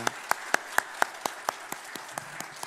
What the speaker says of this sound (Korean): 우리 뜨거운 박수로 환영해 주시면 감사하겠습니다